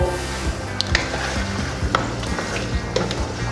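Chicken with spices and dry coriander sizzles steadily in a hot karahi while a spoon stirs through it, giving soft scraping knocks over the constant frying hiss.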